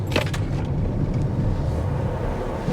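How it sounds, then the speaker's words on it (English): A 2023 Toyota Crown XLE sedan drives on the road, a steady low engine and road rumble heard from inside with some wind noise and a brief hiss at the start. "let's go turn it around, then do some acceleration,"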